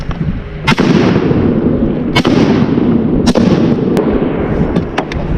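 Shotgun blasts during a duck hunt in North Carolina, with three loud, sharp reports spaced about a second apart, each followed by a rolling outdoor echo, then fainter pops near the end, and no talking.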